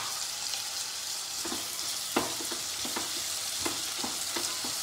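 Sweet corn and green onion leaves stir-fry in a pan with a faint steady sizzle, broken by light scraping strokes from a spoon at an irregular pace.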